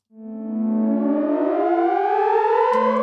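An Omnisphere synth riser preset swells in from silence into a bright, buzzy layered tone whose pitches climb steadily over about three seconds, loud and sustained with no voices.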